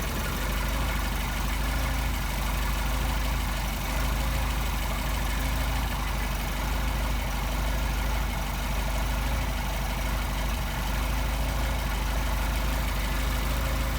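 A Mercedes 190SL engine with Solex carburetors idles steadily and close by, a continuous even rumble with a slightly raised idle speed and no talking over it.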